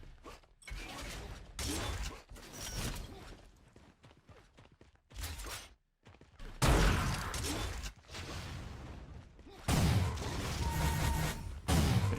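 Sniper and flak weapons fire in an arena shooter video game duel, heard as sharp, clanking shots and mechanical bursts separated by short silences, some stretches louder and denser.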